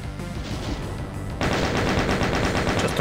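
Video game gunfire: dense, loud automatic bursts that intensify halfway through into a sustained rapid rattle, with no talking.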